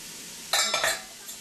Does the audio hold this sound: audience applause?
no